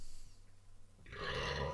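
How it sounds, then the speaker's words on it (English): A single short burp erupts near the end, close and fairly loud, after a quiet moment. "Oh, pardon me. You don't have to write the burp at the end."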